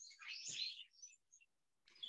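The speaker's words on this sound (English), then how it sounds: "what kind of birds are those in the background?" Small white-eye birds chirp in a Japanese garden with a stream and waterfall: a faint burst of high twittering calls, a few scattered short chirps, then another brief burst at the end.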